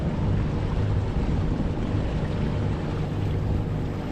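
A boat cruises at sea on its main motor, a steady low rumble with wind and water hiss, loud and unbroken throughout.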